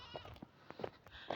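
Several short goat bleats, fairly close, coming in quick bursts with brief quiet gaps between them; no talking.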